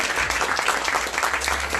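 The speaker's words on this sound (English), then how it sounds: "we'll give Bianca a round of applause for her work she does" An audience at a book launch gives a round of applause, a close, full and steady clatter of many hands lasting throughout.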